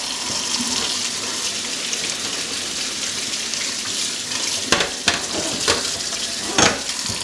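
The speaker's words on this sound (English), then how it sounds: "I have the strainer, rinse the black beans, and that'll be good." Tap water runs steadily over black beans in a metal strainer at a kitchen sink, a continuous splashing hiss with a few sharper spatters near the end and no talking.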